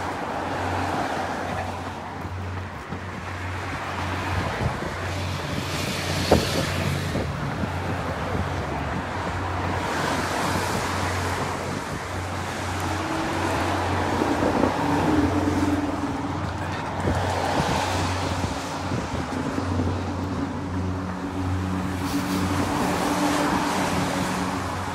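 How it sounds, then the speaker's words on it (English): Road traffic passes a runner on a roadside route, heard as a continuous rumble with vehicles swelling and fading one after another. The sound is moderately loud and steady, with wind buffeting the microphone throughout. "Give the traffic a chance to have their say"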